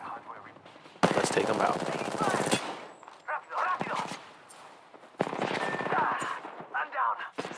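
Automatic gunfire in the battle royale video game Apex Legends comes in loud, dense bursts separated by short gaps, with a player's voice talking between and over the shots.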